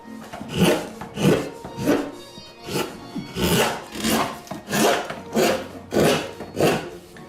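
A woodworking tool cuts grooves into the spruce-like top of a Stradivarius-model violin in regular rhythmic strokes, about a dozen rasping, scraping passes of even loudness, close up and without talk.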